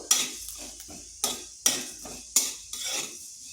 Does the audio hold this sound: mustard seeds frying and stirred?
yes